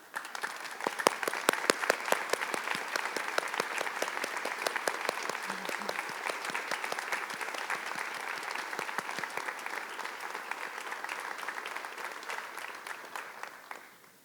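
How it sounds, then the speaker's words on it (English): Steady, dense applause from an audience honoring volunteer award winners at an awards ceremony, sustained for over ten seconds before tapering off, without speech over it. "please stand so that we may recognize you with a round of applause"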